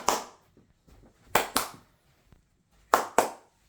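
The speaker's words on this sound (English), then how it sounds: "So let me just clap my hand." Hands clap near a model Boeing 747-400 airliner to switch on its LED light, giving two pairs of sharp, close double claps with quiet gaps between them.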